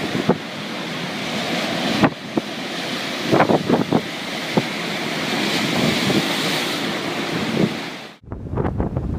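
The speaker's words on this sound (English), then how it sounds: "A terrible hurricane swept in from Greenland, turning the European coastline into a massive water park." Hurricane waves and wind pounding the European coastline, a steady roar of surf and gusting wind buffeting the microphone, with scattered sharp splashes and crashes and a brief drop near the end.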